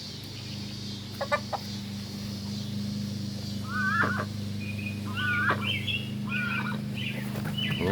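Chickens on a mini farm give short, squeaky clucks and chirps around a feeder, scattered over a low, constant hum, fairly quiet and with no talking.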